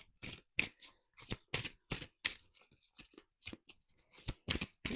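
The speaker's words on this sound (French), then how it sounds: "j'en perds les cartes." Tarot cards are handled and let fall in a quick run of crisp, papery slaps and riffles, a dozen or so short bursts close by with brief gaps between them.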